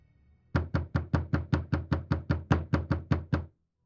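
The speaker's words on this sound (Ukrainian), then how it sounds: "Цього разу стукіт був таким сильним, що двері затремтіли." Heavy knocking on a door: about thirteen loud, evenly spaced blows in a quick steady rhythm, close and alone, then silence.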